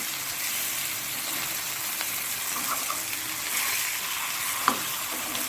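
Mangalore-style fish masala frying in a pan after being flipped gives a steady, close hiss of sizzling oil with one sharp clink near the end.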